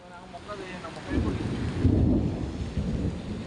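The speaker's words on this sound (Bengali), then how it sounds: "আজ আজকে আমাদের এখানে বৃষ্টি হইতেছে" In Abu Dhabi, a low rumble of thunder swells over steady rain, building to a deep roll before easing.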